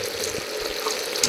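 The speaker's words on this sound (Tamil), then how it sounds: "தண்ணி தான் ஊற்றுங்க ஒரு சட்டி நிறைய" Water is poured into a cooking pot, a brief, steady splashing hiss of moderate loudness with no talk over it.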